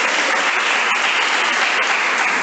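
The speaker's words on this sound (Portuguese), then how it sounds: "Será que você pode dar uma salva de palmas para a Virgem Maria?" A church congregation at a missionary's sermon on the Virgin Mary breaks into steady, dense applause, a continuous wash of many hands clapping close by with no voices over it.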